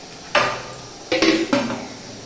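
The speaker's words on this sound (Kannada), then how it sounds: "ಇವಾಗ ಇದು ಸ್ವಲ್ಪ ಅವತ್ತು ಬೇಯಕ್ಕೆ ಬಿಟ್ಬಿಡೋಣ ಮುಚ್ಚಳ ಮುಚ್ಚಿಬಿಟ್ಟು" Metal lid set down on a pot of chicken biryani, a clank followed by a cluster of rattling metallic knocks as it settles, close and fairly loud.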